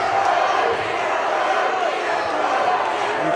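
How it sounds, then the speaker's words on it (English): Continuous loud crowd cheering fills a fieldhouse during a cage fight, a dense steady roar of many voices backing one fighter, holding at the same level from start to finish. "Crowd getting behind Brody Folks here."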